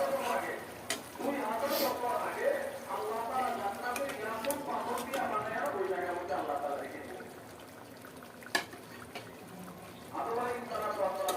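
Meat and potatoes sautéing in a pot give a steady, soft sizzle with occasional stirring scrapes. Someone talks over it almost the whole time.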